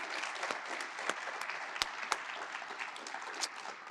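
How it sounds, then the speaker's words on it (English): An audience applauds at a grant ceremony, with steady, fairly quiet clapping from a modest crowd and a few sharper individual claps standing out near the end. "Would you please join me in giving them a round of applause?"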